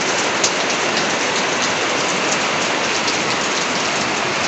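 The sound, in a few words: heavy evening rain in Guwahati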